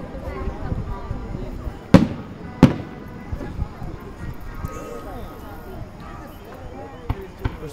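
Fourth of July fireworks burst in two sharp, loud bangs a moment apart, followed by faint scattered pops, while people talk nearby throughout.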